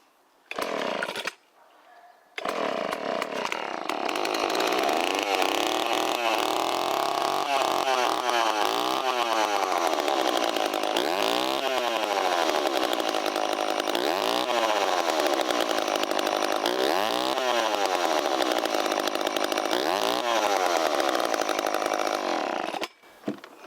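A vintage John Deere 40V chainsaw, warmed up and running with its throttle set slightly high, drones loudly and steadily for over twenty seconds after a brief start, with repeated rising and falling swells in engine pitch.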